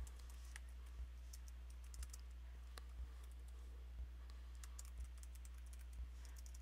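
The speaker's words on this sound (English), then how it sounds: "So I'm just going to see if I can type a little better." Light, scattered key clicks from typing on a computer keyboard, faint and sparse over a steady low electrical hum, with no voices.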